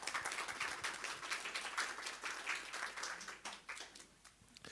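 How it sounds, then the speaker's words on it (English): Audience clapping for five panelists at a roundtable conference, a fairly faint, steady patter of many hands that thins out toward the end. "a big round of applause for all 5 panelists"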